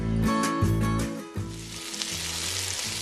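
Cleaned içá ant abdomens fry in pork lard with garlic in a pan on a wood-fired stove, giving a loud, steady sizzle with bursts of crackling as they are stirred.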